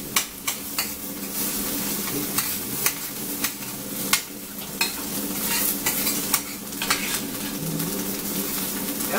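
Spinach and eggs with onions fry in a pan under steady stirring, with a continuous sizzle and sharp scraping clinks of the utensil recurring every half second or so, close and moderately loud, with no talking.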